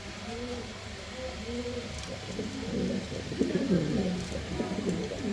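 Pigeons coo in soft, repeated low rolling phrases against a steady background hum, fairly faint and continuous, with no talking.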